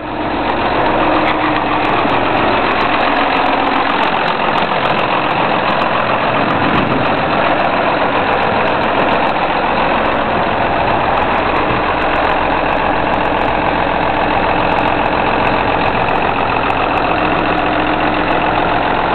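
A new John Deere tractor snow groomer idles outdoors on a ski hill. Its loud, continuous diesel rumble stays steady and close throughout with no pauses.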